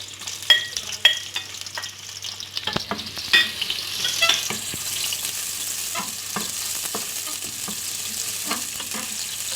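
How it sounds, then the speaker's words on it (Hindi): Sliced onion dropped into hot oil in a pan for tarka dal, frying with a continuous close sizzle punctuated by stirring scrapes and clicks, with no talking. "ऑयल के गर्म होने पे मैं अपना स्लाइस में कटा हुआ प्याज शामिल कर दूंगी।"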